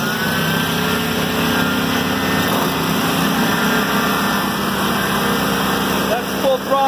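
Two big lawn mowing machines roar at full throttle, a loud, steady, high-pitched engine drone that stays constant and close throughout.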